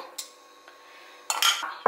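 Cutlery and a pan clink in a home kitchen while Nutella crepes are cooked, with a short clatter near the start, a faint tap, then a louder run of clinks and scraping toward the end, no talking.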